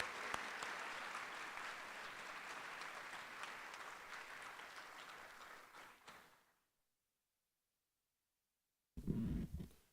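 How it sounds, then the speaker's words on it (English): Loud, dense crowd applause at a school academic awards ceremony carries on for several seconds, then abruptly drops to silence before a burst of noise returns at the end. "Please join me for a round of applause for these students demonstrating excellence in their classroom."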